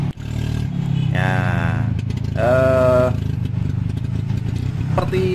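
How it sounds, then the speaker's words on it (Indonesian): A Vespa-based bentor motorcycle rickshaw runs steadily while being ridden, its engine a constant loud drone with some clatter, overlaid by a voice and harmonic tonal sounds that rise and fall. "Nah, bisa jalan-jalan pakai bentor ini gitu"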